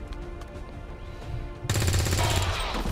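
Specialist soldier firing a gun in XCOM 2: a quiet game backdrop gives way to a loud, sustained burst of gunfire that starts abruptly partway through and carries to the end.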